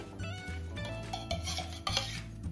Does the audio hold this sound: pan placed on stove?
yes